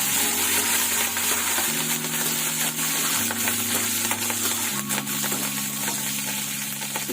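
Curry leaves and drumstick leaves frying in hot oil for a capsicum masala curry, a steady close sizzle running the whole time under a low, stepped background drone, with no talking.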